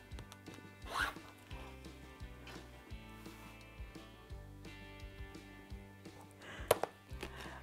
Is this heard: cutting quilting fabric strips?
yes